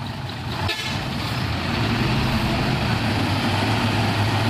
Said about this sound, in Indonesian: akan ditarik dengan truk tangki 500